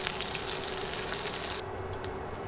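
Sliced okra frying in hot oil in a pan, a dense steady sizzle that fills the whole stretch, close and loud, easing slightly toward the end with no talk over it.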